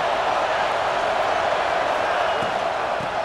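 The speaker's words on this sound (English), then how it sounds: "It's early, but this crowd is fired up. Listen to this noise here." A fired-up football stadium crowd roars as a steady, dense wall of cheering noise that holds throughout at a consistent loudness.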